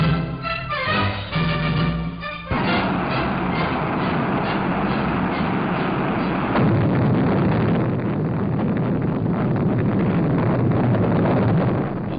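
A 60-ton Juno rocket launching with Pioneer IV in 1959, a loud, sustained roar that builds to a broad, rumbling blast after a brief quieter start, steady and dense through the end.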